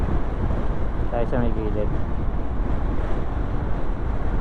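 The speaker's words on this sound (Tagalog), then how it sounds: "Hangin tayo, dinadala tayo sa may gitna" Strong wind buffets a microphone on the rolling hills of Mindoro, a constant heavy roar throughout with a brief voice speaking over it.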